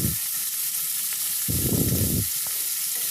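Ginger, garlic, cashews and raisins hit hot oil in a pan, giving a steady close sizzle with a louder burst of frying as the ingredients go in, no talking.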